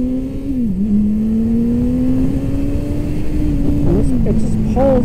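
Suzuki Hayabusa motorcycle pulling hard in second gear, loud steady engine drone with the pitch rising smoothly, a brief dip like a shift near the start, heavy wind rumble throughout.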